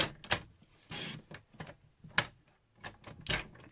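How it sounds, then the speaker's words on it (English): Short sharp slicing swipes of a paper trimmer cutting through designer series paper for a card-making project, several quick strokes separated by brief pauses, close and clear. "So you can bring your trimmer in then and you can cut it smooth."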